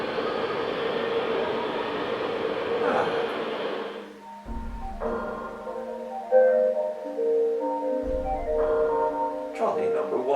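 A trolley in the video game Ico rumbles along rails with a steady mechanical roll, loud at first, then thinning into softer clanks and tonal game sounds with brief low thumps near the end.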